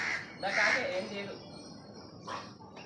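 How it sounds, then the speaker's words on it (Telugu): A crow caws a few times close by in the first second and a half, with a fainter call near the end, over a quiet outdoor background. "కాకే ఏం చేయదు"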